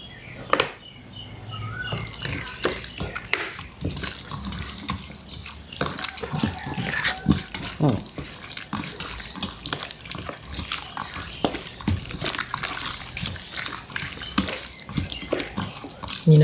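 Plain water poured into a pan while stir-frying chicken for Thai gai ruan nam pla, a continuous splashing pour with drips and clatter and no clear talk.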